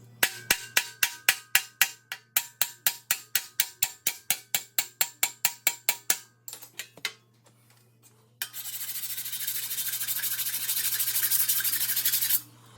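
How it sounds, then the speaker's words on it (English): A cross peen hammer strikes steel around a weld on a 1960s C10 rear cab repair panel, a steady run of about two dozen sharp close metallic blows, then scattered taps and a long loud rasping grind. "So I'm going to take a cross peen now and come just below that weld and just above that weld"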